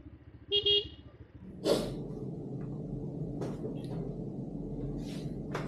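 Car horns in a traffic jam give a loud double toot early on, followed by a brief rising whoosh and a steady murmur of road traffic with a few more distant sounds.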